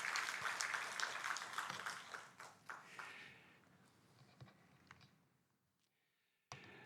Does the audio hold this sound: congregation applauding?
yes